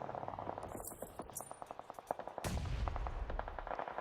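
Grenade explosions and rapid gunfire in PUBG Mobile during a global championship grand final, a fast volley of sharp shots followed by a heavy, booming blast, loud and close, with game noise around it.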